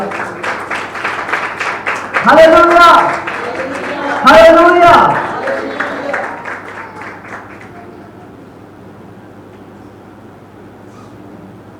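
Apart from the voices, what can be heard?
church congregation applauding for Jesus Christ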